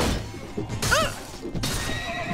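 A horse in the game Mount & Blade: Warband gives a single sharp whinny with a wavering, descending pitch, standing out clearly over a noisy battle din.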